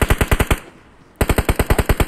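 Rapid bursts of automatic gunfire in a battle royale video game, a quick run of loud shots, a pause of about half a second, then another sustained burst, all close and dominant with no talking.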